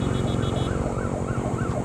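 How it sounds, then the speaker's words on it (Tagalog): A wailing ambulance siren sweeps up and down in steady repeating cycles, heard from a motorcycle ride on a Bajaj Dominar 400 amid constant engine and road rumble, with no talk over it. "May ambulansya na naman."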